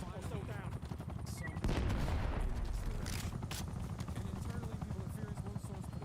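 Game combat from Black Ops 6 with a helicopter drone running throughout, overlaid by bursts of rapid gunfire and a heavier blast near the middle, all continuous and loud.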